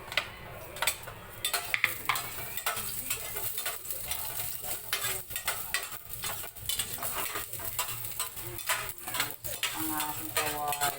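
Garlic fries in a pan (kawali) while cooking a bitter melon (ampalaya) dish, giving a steady crackling sizzle broken by scraping stirs and light clinks of utensil against the pan, with no voices.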